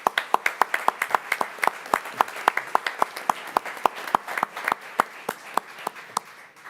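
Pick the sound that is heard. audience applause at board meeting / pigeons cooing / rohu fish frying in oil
audience applause at board meeting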